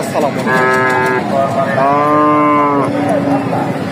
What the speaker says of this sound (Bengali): গরু আনছি আজকে একটা